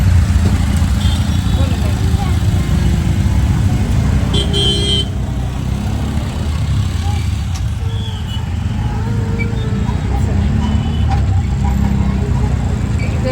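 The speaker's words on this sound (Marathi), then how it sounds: "नॅनूची गाडी चालले." A car drives along with a steady, loud engine and road rumble throughout, with occasional short horn toots nearby and voices talking in the background.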